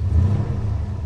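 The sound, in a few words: car engine revving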